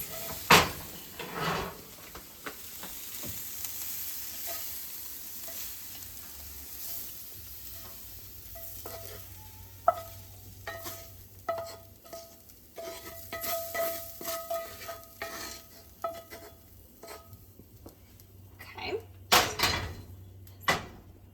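Spoon stirring a hot cooked ingredient into a cheese mixture in a bowl, giving scraping and clinking strokes with a soft sizzle, plus a few knocks from drawers or cupboards.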